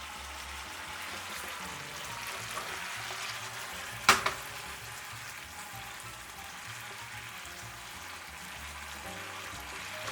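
Pasta being stirred with olive oil in a pan to emulsify the sauce, a soft continuous sizzle and wet stirring hiss with one sharp clack partway through, no talking.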